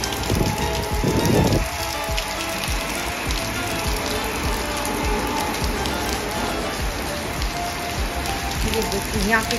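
Steady rain easing off after a hailstorm in Tinsukia, Assam, a dense continuous patter of drops on surfaces close by, with a brief louder rattle near the start.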